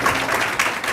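Applause from an audience at a public meeting, steady broadband clapping filling the whole moment at moderate loudness, without talk over it.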